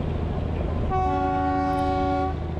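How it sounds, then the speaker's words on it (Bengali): The Darjeeling toy train at Batasia Loop sounds a single sustained horn blast lasting about a second and a half, loud and close over a continuous low rumble of the moving train. "টয় ট্রেন বাতাসিয়া লুপে 360 ডিগ্রি ঘুরে যায়"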